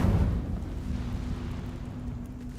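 An Incendio fire spell cast in Hogwarts Legacy bursts with a loud, deep whoosh at the start, then fades into a low rumbling crackle that lingers briefly.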